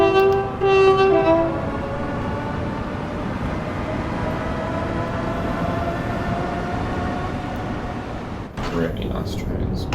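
A Class 710 electric train accelerating on the Suffragette line from Barking Riverside to Gospel Oak in Train Sim World gives a loud, steady traction hum and rumble, opened by a short horn blast with a brief clunk near the end.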